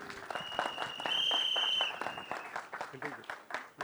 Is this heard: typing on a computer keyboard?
no